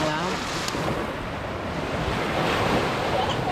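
Sea waves wash onto a beach on Hòn Sơn island, Vietnam, a continuous broadband surf roar with wind rumble against the microphone, loud and close, with no distinct breaks and no clear voices.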